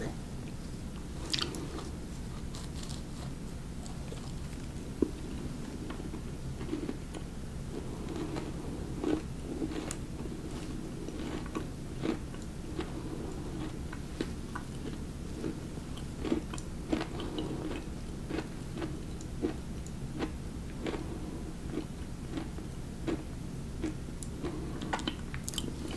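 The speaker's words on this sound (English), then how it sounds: "let's try this. Just a little bite without coffee." Repeated bites and steady chewing of a light, crunchy cookie from the UK, close and crisp with small crunch clicks spread evenly over a quiet background.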